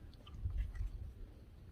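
Soft, close chewing of a moist cake baked on a Blackstone griddle, a few quiet squishy bites rising and then easing off against a faint room hush.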